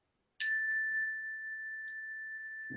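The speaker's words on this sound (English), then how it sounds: "I'll just ring the bell." A single mindfulness bell is struck once, producing a clear bright ring with a sustained pure tone that slowly decays in an otherwise silent room.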